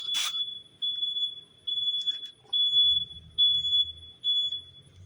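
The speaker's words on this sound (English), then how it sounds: "Now we got some backer-uppers here in the parking lot next to me." A vehicle's reversing backup alarm in a parking lot gives steady, repeated beeps at a regular pace, fairly faint, while low rumbling engine noise rises underneath.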